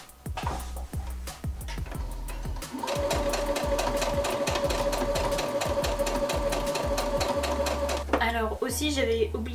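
Sewing machine stitching around the edge of a fabric face mask with elastic ear loops, its steady rapid needle rhythm running nearly throughout, starting and stopping briefly near the end, with speech over it.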